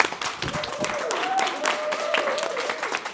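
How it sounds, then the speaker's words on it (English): Steady applause from a crowd, with a tonal whoop or whistle rising through it and some voices mixed in. "Can we get a round of applause for the panelists?"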